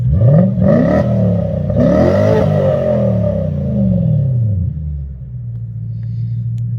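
A Lexus car engine, heard through an open window, rumbles steadily and loud, revving up and down in smooth swells before settling into a low, even idle.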